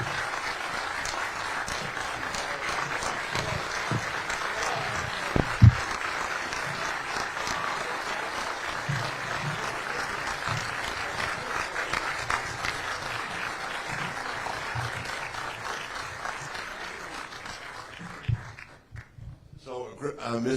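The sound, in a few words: audience applause for Misty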